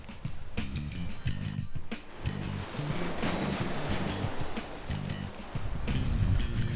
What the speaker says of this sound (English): So when waves come into the beach